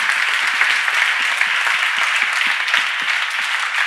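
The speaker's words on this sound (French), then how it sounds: "on peut les applaudir aussi, alors vos collaboratrices" An audience applauds at a women's award ceremony, a dense and steady round of clapping that lasts throughout at an even, fairly loud level.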